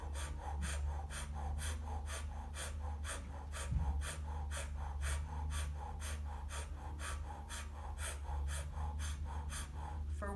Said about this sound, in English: we do a O-shaped mouth. And we bring the breath in and out.